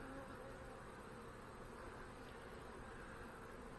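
Honey bees in an opened hive fill the air with a dense, steady hum, a faint continuous buzz heard alone without pauses.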